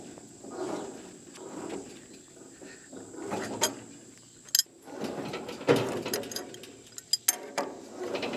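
Gears of a Hesston hay mower turned slowly by hand with a wrench, producing soft clicking and ratcheting with a few sharper metallic clunks, close and fairly quiet, with no talk.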